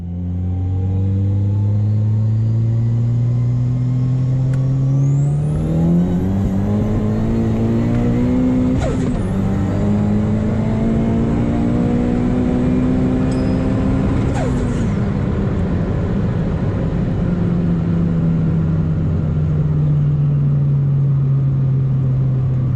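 A turbocharged 2014 Honda Civic Si 2.4 pulls hard from 100 to 200 km/h, its engine note climbing loudly through the gears with brief dips at each shift and a turbo whine above.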